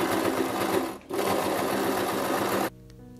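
A sewing machine stitches side pieces of jacket fabric for a backpack, running in a steady close whir with a short pause near one second before it resumes and then stops abruptly.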